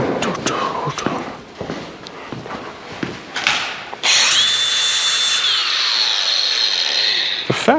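A power grinder starts up after a stretch of scraping and handling noise, then holds a loud steady high whine at close range before spinning down near the end, with no voices over it.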